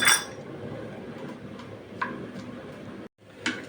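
Chopped onion fries in hot soybean oil in a frying pan, giving a steady close sizzle with a few light clinks of a utensil against the pan.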